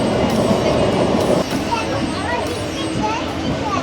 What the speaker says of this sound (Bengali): ট্রেন আমাদের প্রবেশ করছে রঘুনাথ বাড়ি স্টেশন।